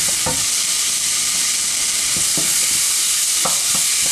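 Sliced celery frying in a pan with oil, a steady close sizzle broken by a few scraping stirs of a utensil, with no talking.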